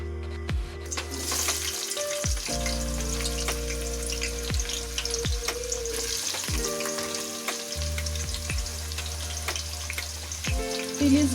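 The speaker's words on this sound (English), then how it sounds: "So we will fry these onions." Onions fry in hot oil for a chicken biryani, a loud continuous sizzle with repeated clinks and scrapes of a utensil against the pan.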